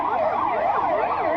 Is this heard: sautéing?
no